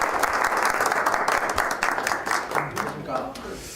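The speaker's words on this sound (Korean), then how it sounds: "네, 박수로 맞아주십시오." An audience at a Bruce Lee Jeet Kune Do book concert claps in sustained, even applause to welcome a guest, with a voice speaking over it.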